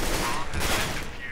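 Gunfire in the video game CS:GO, a dense burst of overlapping rapid shots filling the short stretch, loud and close.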